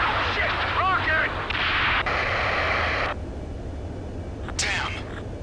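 Rockets fire and explosions boom over a city battle in Ace Combat 7: Skies Unknown, loud sustained blasts and whooshing bursts layered with crackling radio chatter and voices.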